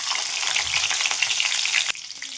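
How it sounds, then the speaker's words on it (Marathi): Onion sizzling loudly in a hot oil tempering of cumin seeds and garlic cloves, a steady bright frying hiss with a brief stir knock near the end before it settles slightly quieter. "कांदा टाकून घेणार आहे"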